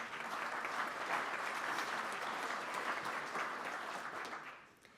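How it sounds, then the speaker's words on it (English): Sustained applause from an audience at a Rotary Club of Tulsa meeting, thanking the volunteers, a dense steady patter of many hands that fades near the end. "Let's give them a round of applause."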